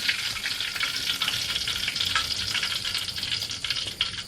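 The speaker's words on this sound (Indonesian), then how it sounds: "Di sini aku juga goreng pete." Petai beans fry in a pan with a loud, continuous crackling sizzle close by and faint stirring underneath.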